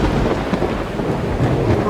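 Rain and rolling thunder in the game Skyrim, heard near a bridge: a short, dense, steady wash of rainfall with a low rumbling beneath, loud and continuous, with no voices.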